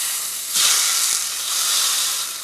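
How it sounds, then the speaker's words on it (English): A steak hits a hot frying pan with a loud hiss that settles into a steady, close sizzle, swelling again briefly. "we're just going to put this steak in here on this frying pan"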